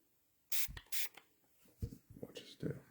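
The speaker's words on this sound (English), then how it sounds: "can you pass me that spray bottle, please?" A few short hissing spritzes from a spray bottle onto fabric, two quick ones then a couple more, close by with soft rustling between.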